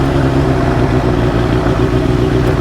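A Suzuki GSX-R1000 motorcycle engine idles slightly high, near 2,000 RPM, at a fast, even rumble, loud and close, with no voices.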